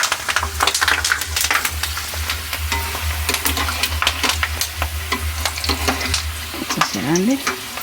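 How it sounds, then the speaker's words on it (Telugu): Potato chips sizzle in hot oil, a steady, loud frying crackle with a low hum beneath it and brief stirring clatter over it, and no voices. "ఇంకా మన నూనె కాగింది కదా, వేసేసుకుందాం ఇంకా మంచిగా."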